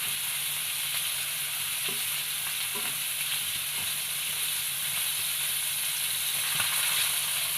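Chicken pieces frying in a pan give a continuous bright sizzle, with a few soft clinks of stirring scattered through, close and steady.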